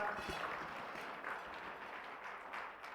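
Audience applause fills a K-Bank Private Banking investment seminar in Thailand, a steady, moderately distant wash of many hands clapping that holds evenly for about three seconds with no voices over it.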